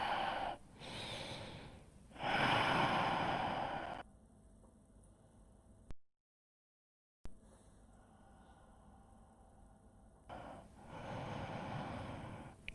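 Deep, slow breaths during a yoga pose for runners, close and clear: long audible inhales and exhales with quiet gaps between them.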